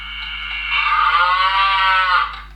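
A single long cow moo, close and loud, rising and holding for about two seconds before trailing off, with no talk over it.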